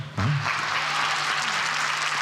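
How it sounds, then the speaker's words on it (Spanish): Studio audience applause on a TV music program, breaking out suddenly after a brief low tone and holding as a dense, loud, even burst of clapping. "le damos un aplauso, ¿no?"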